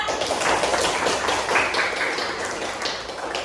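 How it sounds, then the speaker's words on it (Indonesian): A classroom of students claps for a fellow student, a dense, fairly close patter of hands that holds steady for a few seconds and then tapers slightly toward the end. "kasih tepuk tangan untuk Rehan ya"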